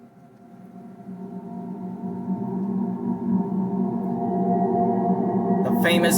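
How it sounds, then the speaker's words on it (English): Sonified sound of the planet Jupiter: eerie, droning electronic hum with wavering tones that slowly swells in loudness, ending with a short burst of static-like noise. "This is the sound of Jupiter."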